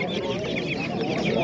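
Roosters and hens crowd a poultry bazaar in Qo'rg'ontepa, Andijan, with dense, continuous clucking and crowing close by, layered with the murmur of people talking.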